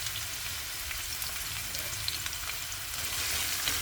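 Onions and green chilies frying in a pan, a steady close sizzle with faint stirring, continuous throughout without talk.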